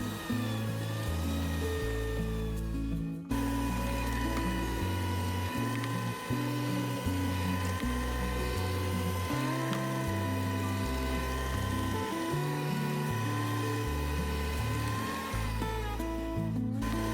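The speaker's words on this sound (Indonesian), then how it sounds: "Tadi adonannya ini saya mixer selama 10 menit" A hand mixer with spiral hooks kneads bread dough for tuna mayo rolls. Its motor hums loudly and steadily, drops out briefly once and then drones on, with a slight wavering in pitch throughout.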